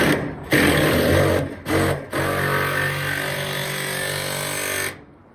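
A power tool drives lag bolts into a 24-gauge steel BG7 commercial gutter, whirring loudly in bursts with short gaps, then winding down at the end.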